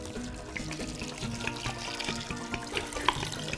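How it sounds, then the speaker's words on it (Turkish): Water poured steadily from a tap into a pot of boza grains, a continuous splashing, gurgling stream heard close and alone. "Şöyle üstünü birazcık geçecek kadar su koydum."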